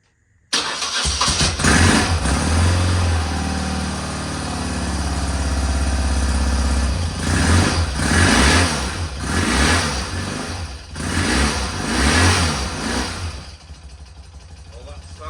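A BMW R80G/S motorcycle fitted with a new electronic ignition cranks and fires up, settling into a loud, close idle and then revving in several rising and falling blips before easing off.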